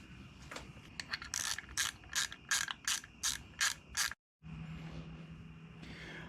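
Ratchet tightening a bolt on an engine bracket of a Grand Prix GXP LS4, a close series of rapid clicking pulls in quick bursts, a brief pause, then a softer steady whir.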